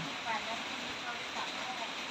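Light, steady rain falls outdoors during a stormy day in rural Thailand, a soft continuous hiss with no distinct drops standing out and no voices.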